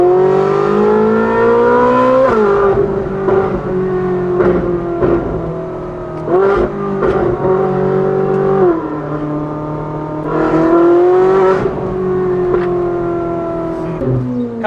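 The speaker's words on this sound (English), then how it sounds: "We're gonna let the car warm up here" A Ferrari 458 with a full titanium Valvetronic exhaust and free-flow front pipes warms up close by, a loud, steady engine note that rises and falls with several short revs.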